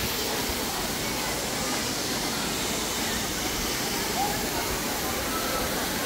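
A continuous, even rush of falling water from Madhabkunda waterfall in Bangladesh, a busy tourist spot, holds steady and dense from start to finish.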